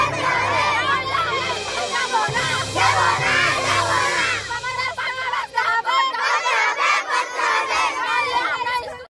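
Schoolchildren chant and shout slogans at a road blockade protest over an unpaved road in Lowa Krishnarampur, Galsi block, Purba Bardhaman. The loud massed voices yell in rising and falling waves with overlapping cries.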